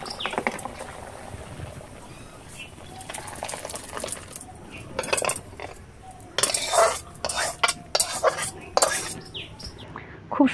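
Metal utensils clink and scrape against a pot as cooked shrimp with moong dal is served, with irregular clatter and stirring sounds in a quiet kitchen and no talking.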